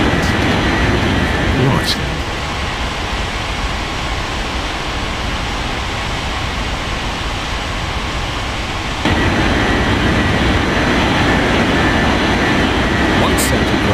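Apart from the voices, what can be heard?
airliner taking off from runway 14 left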